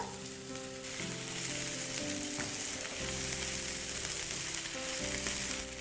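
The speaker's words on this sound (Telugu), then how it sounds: "కర్రీ లీవ్స్, దీనిలా స్టర్ ఫ్రై చేద్దాం అనమాట." Ginger, finely chopped green chillies and curry leaves stir-frying in hot oil, a steady loud sizzle that flares up as each handful goes in, with no voices.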